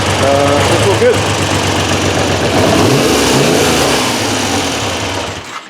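A Triumph Trident T160 motorcycle engine idles and runs with a dragging clutch and a suspect left-hand carb on the idle circuit, a steady close mechanical rumble with a blip of revving near the start, then settling before cutting off.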